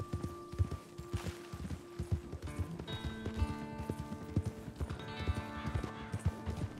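Hooves of a horse in Red Dead Redemption 2 clip-clop in a steady walking rhythm, close and clear, with faint low game ambience underneath.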